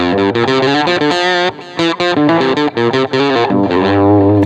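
A heavily distorted electric guitar through a Mesa triple rectifier amp simulation on a Soundcraft Ui24r mixer plays chugging chords and short riffs, loud and close, with a brief gap before the chords resume and ring out.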